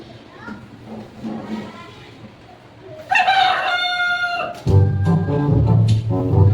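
A rooster crows loudly and close by about halfway through, followed by chickens clucking in a backyard flock at feeding time, with quieter background sounds and possible voices before the crow.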